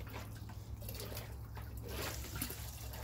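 Water runs from a primed hand pump in a garden, a steady close trickle and splash that continues throughout under a constant low hum, with no talk.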